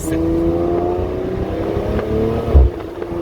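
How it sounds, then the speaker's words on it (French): Maserati Levante Vulcano with a V6 biturbo engine holds a steady, loud, droning idle hum with a short low thump near the end, accompanied by some wind noise. "Ce Maserati, cette mélodie, même en V6, c'est magique."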